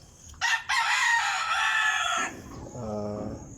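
A rooster in a backyard chicken coop lets out one loud, nearby crow lasting about two seconds, followed by softer clucking from the flock.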